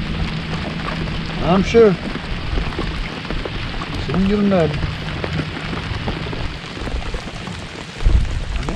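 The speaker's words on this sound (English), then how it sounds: "You know, it's raining." Steady rain falling on a lake while fishing for crappie, a continuous dense hiss throughout, with someone talking briefly over it twice.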